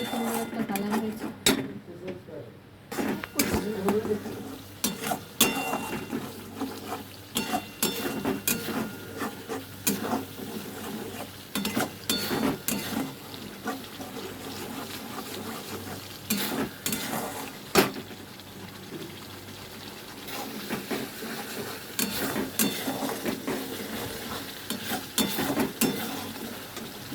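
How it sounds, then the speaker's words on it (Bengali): Spices sizzle and fry in a wok for paneer butter masala, with steady crackling and repeated scraping, clinking stirs of a spoon against the pan throughout, moderately close, with no talk. "দেখুন মশলাগুলো ভাজা হচ্ছে।"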